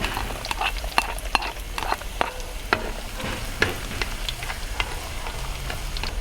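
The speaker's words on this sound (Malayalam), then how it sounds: "ഇനി അരിഞ്ഞ് വെച്ച് ഉള്ളി നമുക്ക് ഇതിലേക്ക് ചേർത്ത് കൊടുക്കാം." Chopped onion fries in hot coconut oil for a Kerala-style fried-coconut fish curry. A steady, crackling sizzle runs throughout, punctuated by sharp clicks and scrapes of a utensil stirring in the pan, with no voices.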